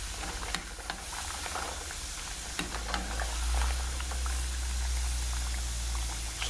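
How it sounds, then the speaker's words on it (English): Green plantain slices frying in hot oil for tostones, giving a continuous bubbling, hissing sizzle with scattered crackles and pops, steady and close throughout with a low rumble underneath. "So what is the frying doing?"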